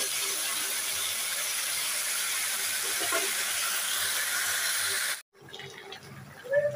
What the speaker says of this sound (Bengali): দেখো তরকারিটা আমার ফুটছে